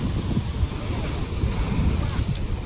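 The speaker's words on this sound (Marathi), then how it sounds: "आता आली लाट ही बघा." Sea waves wash onto Hedvi beach on the Konkan coast, a steady, close surf roar mixed with gusty wind buffeting the microphone, continuous and fairly loud throughout without a clear break.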